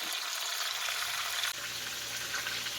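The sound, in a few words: steak patties browning in a frying pan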